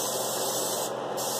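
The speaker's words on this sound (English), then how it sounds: "Put too much spray on there." Cooking spray hisses from an aerosol can onto a pan, one continuous close, loud spray lasting over a second with no pause.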